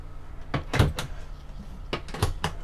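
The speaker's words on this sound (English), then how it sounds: "let's check out these cabinets on top" Overhead storage cabinets in a Black Series HQ19 off-road travel trailer being opened, giving several sharp knocks and clicks of the doors and latches at close range, spaced out in two bursts.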